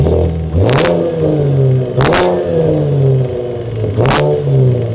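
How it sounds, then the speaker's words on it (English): A V6 engine in an American car collection revs hard three times, each throttle blip rising in pitch then falling back to a rumbling idle, loud and close with no talk over it. "So again, nice sounding car, being even being a V6."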